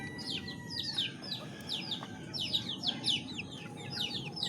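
Free-range backyard chickens scattered with feed cluck and chirp busily at close range, a steady overlapping chatter with no talk.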